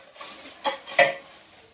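A tawa pan being handled during unboxing gives a few brief metallic knocks and scrapes close by, with two clearer clanks in quick succession and no talking.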